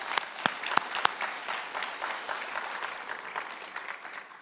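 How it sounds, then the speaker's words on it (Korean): A Korean church congregation applauds during a Sunday service: a few sharp, close individual claps at the start, then a sustained, softer round of clapping from many hands. "수고하신 모두를 위해서 박수 한번 하겠습니다."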